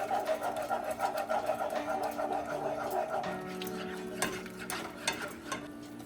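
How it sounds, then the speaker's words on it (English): Spoon stirring vinegar brine with salt, sugar and red pepper flakes in a pot, a steady scraping swirl with light clinks, fairly close and moderately loud with faint voices underneath. "and stir to dissolve."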